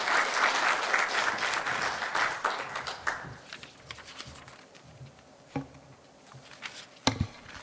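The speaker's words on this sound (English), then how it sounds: "Please join me in welcoming Dr. Oh with a big hand." Conference audience applauding to welcome keynote speaker Dr. Oh at a national brand meeting, dense clapping for about three seconds that thins into scattered claps and a few late isolated ones.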